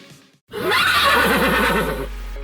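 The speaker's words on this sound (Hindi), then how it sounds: "शरारती घोड़ा।" A loud, close horse neigh in an animated story: a single long whinny with a wavering, quavering pitch lasting about one and a half seconds, after a brief silence.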